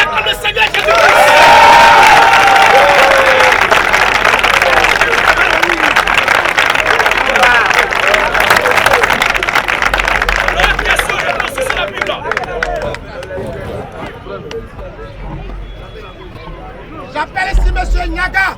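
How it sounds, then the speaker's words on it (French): A large church congregation loudly cheering and applauding together during a worship gathering, a dense roar of voices and clapping that fades toward the end before rising briefly again. "On acclame le Seigneur Jésus-Christ."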